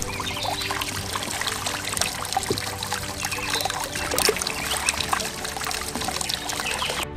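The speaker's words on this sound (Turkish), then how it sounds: "Köy çeşmesinin sesi geliyor kulağımıza. Şırıl şırıl akıyor suyu." Water flowing steadily from a village fountain in Kavak, Sinop, Turkey, a continuous close trickling and splashing that runs without a break, with faint outdoor background noise.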